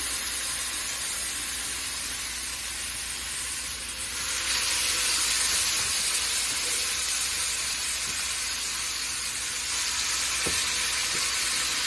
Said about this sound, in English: Check it, yeah, good and sizzling. So we're going to lay our lamb chops down.